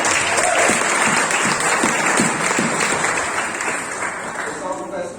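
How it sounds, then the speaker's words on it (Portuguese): A church audience breaks into sustained, dense applause, a steady wash of many hands clapping at close range that fades slightly toward the end. "Dá uma salva de palmas para Jesus também."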